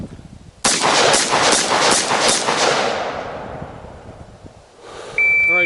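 Loud gunfire erupts and rings out for a couple of seconds during a shooting drill that mixes single shots with emergency reloads, then decays into quiet before a faint electronic beep.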